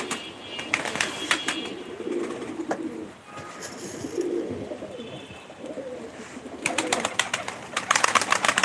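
Many birds coo and call together, pigeons or doves mostly, with bursts of flapping and chirping near the end; a busy, close flock sound.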